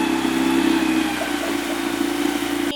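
A boat engine idles steadily right after starting, a close, constant low mechanical drone that stays even for the whole stretch with no talk over it.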